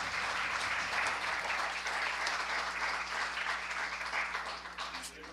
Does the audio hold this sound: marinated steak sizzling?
no